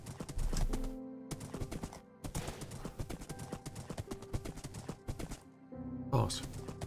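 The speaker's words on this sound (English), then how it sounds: "This is a really fast horse, look at it." Quick, crisp clip-clops from a fast horse ridden in Minecraft beat out a steady galloping rhythm, broken by short pauses and a whinny-like burst near the end.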